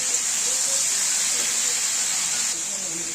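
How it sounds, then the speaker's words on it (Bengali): Potatoes frying in a pan for a white potato curry, giving a steady, bright, continuous sizzling hiss that stays even throughout, with faint voice-like sounds underneath. "1 থেকে 2 মিনিটের মতন আমরা এরকম ভেজে নেবো আলুগুলোকে।"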